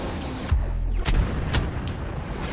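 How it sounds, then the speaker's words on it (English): Y-Wing bombers making an attack run in Star Wars Battlefront on Hoth: three heavy booming explosions roughly half a second apart, loud over a constant rumbling battle bed. "bombers are making their attack run."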